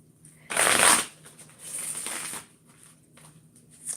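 A deck of cards is shuffled close by: first a loud, crisp riffle, then a softer, longer shuffle, and after that quiet handling with no talk.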